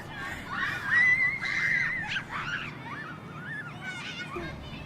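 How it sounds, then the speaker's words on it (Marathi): Children shout and shriek noisily nearby, their high, excited voices overlapping in bursts with no pause, like a group at rowdy play indoors near someone working. "अरे किती आवाज करतायत ही मुलं"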